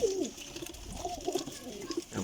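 French-breed pigeons at a bird seller's give a steady run of soft, rolling coos close by, one call flowing into the next across the short stretch, with no voices.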